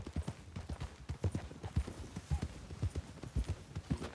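Horse hooves clip-clop steadily in Red Dead Redemption 2, a close, rhythmic run of hoofbeats with no talk over them.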